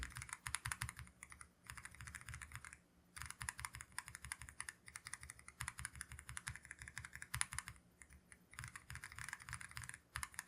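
Rapid typing on a mechanical keyboard with Speed Copper tactile switches gives dense, crisp, close-miked clacks in bursts with short pauses, with no voices.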